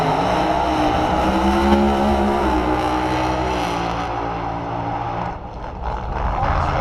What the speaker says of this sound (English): I think this is the Pro Doorslammers running now